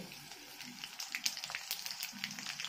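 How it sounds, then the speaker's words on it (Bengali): Dried chili and nigella seeds fry in hot oil in a pan, giving a faint, steady sizzle with small crackling pops and no talking. "লঙ্কাটা কালো জিরেটা একটু ভেজে নেব"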